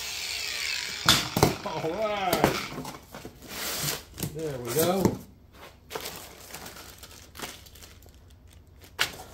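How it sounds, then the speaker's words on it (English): A Yeswelder Arc 145DS stick and TIG welder is unboxed with bursts of cardboard crinkling, rustling and tearing, close and uneven, while someone talks in between. "So let's unbox this."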